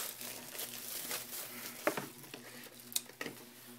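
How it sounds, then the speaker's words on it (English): Plastic wrap is peeled and torn off an Apple wireless keyboard box, a steady close crinkling and crackling with a few sharper tearing snaps. "Just cut it like that. Take this plastic off."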